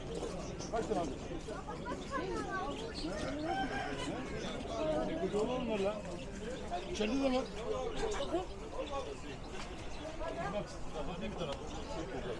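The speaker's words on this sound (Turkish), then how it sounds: "üç tavuk bir horoz var burada" Three hens cluck and a rooster calls amid steady crowd chatter and people talking nearby, a busy, noisy outdoor market scene.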